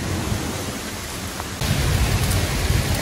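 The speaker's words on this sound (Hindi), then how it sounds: "आज तो हो गई है तूफ़ानी बारिश हमारे गांव में।" Steady roar of heavy storm rain with gusting wind in a village, growing louder partway through, no voices.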